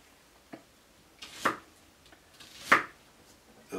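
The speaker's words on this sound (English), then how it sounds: "now I'm just slicing these into three pieces" Kitchen knife slicing Brussels sprouts on a cutting board, a few sharp isolated chops spaced unevenly, close and fairly clear against a quiet background.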